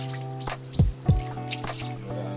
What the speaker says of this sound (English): So I just drop a little, the angle here